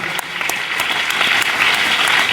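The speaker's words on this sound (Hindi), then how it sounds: "इसके लिए ताली बजाओ कि आप सही जगह आ गए।" Loud, close applause from an audience at a gurukul gathering in Haridwar, dense continuous clapping that holds steady and builds slightly throughout.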